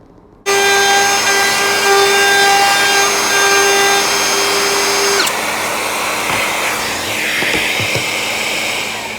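A router bit plunging deep into a wooden board during a dust extraction build: a loud, steady high-pitched motor whine begins abruptly, then shifts into a rougher, grinding cut partway through, close and continuous with no talk.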